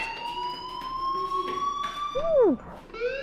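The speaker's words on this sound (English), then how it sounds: "do you hear that fire alarm?" A fire alarm rings in the video game Life is Strange, a steady electronic tone with harmonics heard clearly and continuously, followed by a swooping siren-like sweep near the end.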